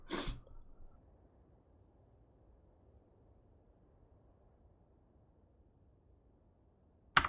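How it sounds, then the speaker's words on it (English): A single sharp human sneeze bursts out at the start, followed by long near-silence and another brief burst at the very end. "I actually sneezed this time"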